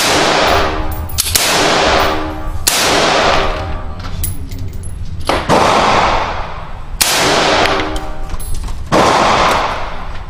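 Five loud, close gunshots from a Smith & Wesson AR-15 rifle fired at irregular intervals a second or two apart, each with a sharp crack and a lingering echoing tail, with faint clinks between shots.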